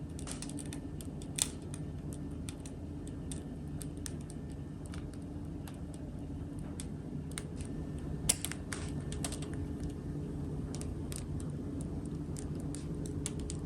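Fine, irregular crackling and tiny pops from cooling fresh homemade bread just out of the oven, quiet and close, over a low steady background hum.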